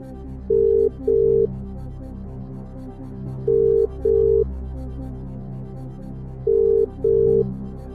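A telephone ringing out on a call line during a quiz show, three evenly spaced double rings sounding loud and clear over a low hum, with no talk.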